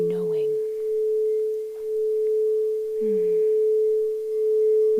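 Crystal singing bowl tuned to 432 Hertz, a steady pure sustained tone ringing continuously and evenly throughout, with faint breathy vocal sounds briefly at the start and again near the middle.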